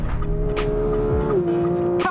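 A new Porsche 911 GT3 being driven, its engine holding a steady, close drone before the pitch drops at a gear change, with brief bursts of wind and road noise.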